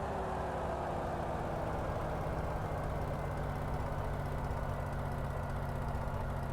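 A Hawker Hurricane's piston engine idles steadily in Microsoft Flight Simulator, a constant low droning rumble with a faint rattly, burbly texture, heard alone without talk.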